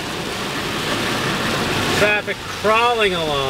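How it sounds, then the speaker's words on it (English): Heavy rain pours down on flooded Route 6 on Cape Cod, a steady broadband wash with vehicles crawling through the water, while someone speaks over it near the end. "We're getting that rain we needed, but man, we are getting a lot of it"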